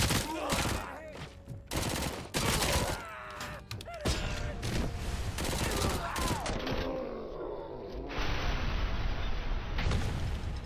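Rapid gunfire bursts from RoboCop's weapon in RoboCop: Rogue City, shooting out light sources in an underground area beneath an arcade, with dense crackling shots and impacts over a busy game soundscape.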